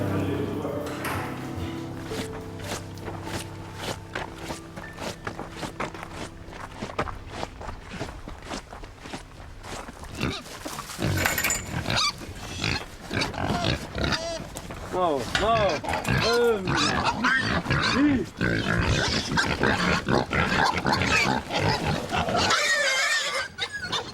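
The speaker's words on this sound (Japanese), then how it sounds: "豚に餌として与えるのだ。" Pigs grunt and squeal while being fed leftover milk on a farm, with loud, irregular snorts and squeals that grow busier and denser in the second half, with people talking over the animals.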